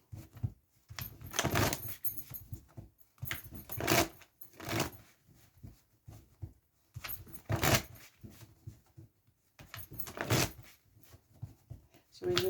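Tarot cards are shuffled by hand in repeated soft riffling bursts, close and fairly quiet, with a voice speaking in between.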